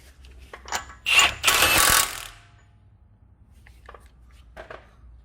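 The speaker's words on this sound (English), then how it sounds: "we're gonna go ahead and tighten down the spindle bolts" A ratchet tightening the spindle bolts on an Acura RSX Type S during a driver side CV axle replacement, a few quick clicking strokes rising into a loud burst, then fainter clicks, close by with no talk.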